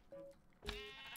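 Sheep bleating in Minecraft, one short tonal bleat followed by a louder, longer one close up against low game background, with no speech.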